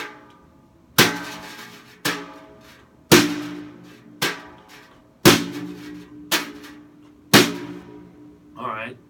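Seven sharp drum strokes with decaying ring, accented on beats one and four, spaced unevenly in a steady pattern, close and fairly loud.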